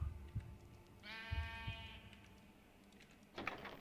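A Minecraft sheep bleats once, a clear wavering baa of moderate loudness, surrounded by soft thuds and scattered game sounds, with a sharper burst of noise near the end.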